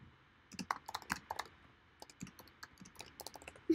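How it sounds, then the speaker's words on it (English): Fast typing on a computer keyboard during a comic inking live stream: quick, crisp key taps in uneven bursts, close up and alone, with a short pause in the middle. "I'm just gonna type this one in."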